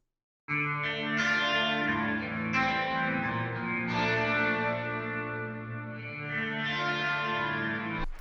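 A sustained synth-like tone runs through a reverb set to full diffusion at 100% wet mix, producing a thick, smeared wash where chord changes blur into one another and tails overlap continuously, with no voices.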